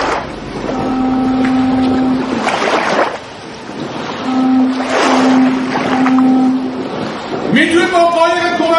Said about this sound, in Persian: موتور روی کشتی رو خاموش کنید